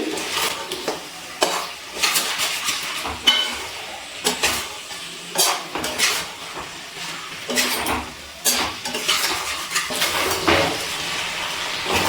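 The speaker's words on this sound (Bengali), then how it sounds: "পেঁয়াজ আর ক্যাপসিকাম মাংসের সাথে নাড়াচাড়া করে একটু রান্না করে নিচ্ছি।" A spatula scrapes and clatters rhythmically against a kadai as onion and capsicum are stirred with chicken for dhaba-style kadai chicken, repeated close scraping strokes over a soft sizzle.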